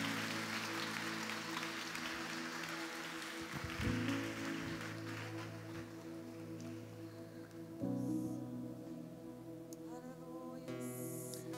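A church congregation in Campos Gerais, Minas Gerais, applauding in praise, a steady wash of clapping that sounds almost like rain, with background music and tones rising under it.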